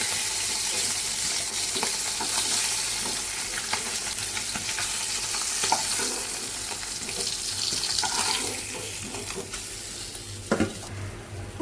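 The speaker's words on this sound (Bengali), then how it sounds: "মাছ ভাজা হয়ে যাবার পর যে তেলটা ছিল সেই তেলের মধ্যে দেখো পেঁয়াজ কুচি দিয়ে দিলাম।" Chopped onion frying in oil left over from frying rohu fish for a fish korma, a steady broadband sizzle with occasional stirring clatter and scrapes, close and continuous with no talk.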